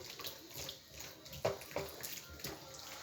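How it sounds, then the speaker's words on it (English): Hot running water splashes over food being washed by hand, an uneven close trickle and slosh with a few sharper splashes against a low background rumble. "I'm washing it in hot water."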